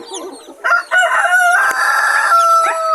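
A rooster crows loudly up close among clucking chickens, Rhode Island crosses with native bloodline, one drawn-out crow over brief clucks.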